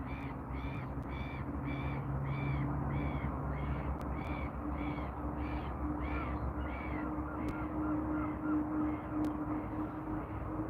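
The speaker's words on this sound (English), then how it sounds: "oh, you stupid bird" A crow-like bird caws over and over in a steady series, clear but somewhat distant, above a continuous low outdoor rumble beside a carp-fishing spot, with no talking.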